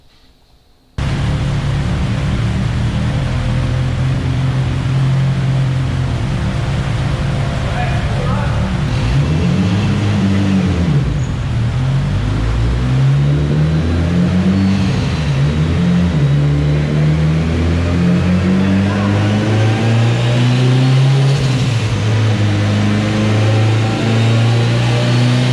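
Mitsubishi Evo X with high-compression aluminum rods revving on a chassis dyno, a loud sustained engine drone whose pitch swoops down and climbs steadily through a long pull, close and uninterrupted.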